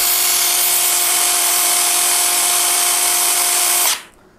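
Bull BL800NM cordless impact wrench spinning freely at full speed, a loud steady high whine held for about four seconds before abruptly cutting off and fading.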